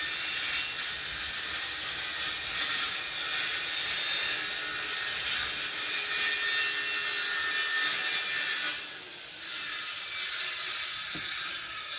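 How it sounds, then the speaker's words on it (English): Continuous, fairly close hand sawing of wood for a chicken tractor, a hissing rasp that keeps on with one brief pause near the end. "Sorry about the sawing"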